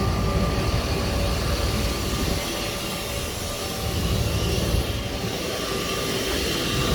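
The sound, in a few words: fuel pump running on a 5,000 gallon jet fuel truck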